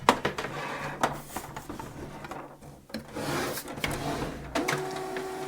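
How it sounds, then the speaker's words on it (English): A Canon imageCLASS LBP122dw laser printer powers on with a series of mechanical clicks, whirs and internal clunks, moderately loud and close, with no talking. "The printer will power on by itself after you connect the power cable"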